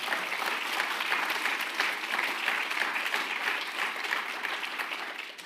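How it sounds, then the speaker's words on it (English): Steady, even applause from a roomful of people greets a training scheme's first applicants at a talk, a continuous wash of clapping at moderate distance, with no single claps standing out. "if you could give them a round of applause"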